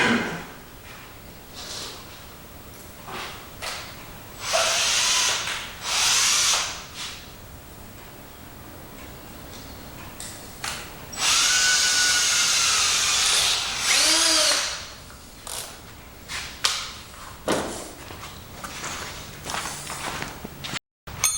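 A power drill, used during repairs on a 1972 Homelite T10 garden tractor, whirs in several bursts of varied length, with one long run near the middle, separated by handling clatter and footsteps.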